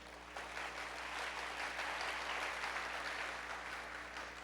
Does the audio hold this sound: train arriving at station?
no